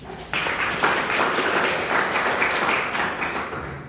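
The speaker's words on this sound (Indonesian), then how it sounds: "Kita beri tepuk tangan lah untuk mereka." A university class claps for classmates who just finished presenting, a steady round of many hands starting abruptly and tapering near the end, moderately close, without talk.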